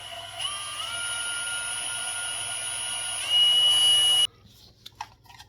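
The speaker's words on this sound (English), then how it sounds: "Let's drill this hole real quick." A power drill boring a hole during modifications for a trolling motor controller, a high steady whine that rises in pitch near the end and then cuts off abruptly, followed by a few faint clicks.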